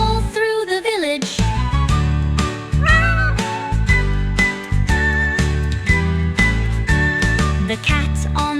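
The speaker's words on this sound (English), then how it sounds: "The cat on the bus says meow, meow, meow." A cartoon cat meows repeatedly in a children's nursery rhyme about farm and safari animals, with the calls set into bright, steady sing-along music that plays throughout.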